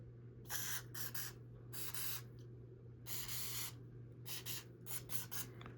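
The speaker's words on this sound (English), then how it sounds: "So we're gonna spray some oil all in here." Ballistol oil is sprayed onto the metal of a Masterpiece Arms Defender MPA30T rifle in a series of short, hissing bursts, some single and some in quick pairs, close and fairly quiet over a low hum.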